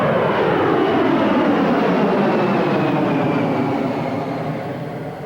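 A fixed-wing airplane passes close by near Vancouver airport, a loud, steady engine roar with a falling Doppler sweep that fades slightly toward the end, with no other sounds.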